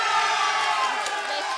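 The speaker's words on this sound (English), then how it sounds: "Let's do a cheer test." An audience at a New Zealand political panel debate on the TPP cheers and shouts in a short burst of crowd noise, loud and sustained.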